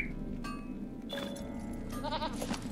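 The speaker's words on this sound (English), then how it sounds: "Actually, let's hop on our goat." A goat mount in the Lord of the Rings Online video game bleats in short, wavering cries, with a couple of separate calls over a faint game background. Nobody speaks.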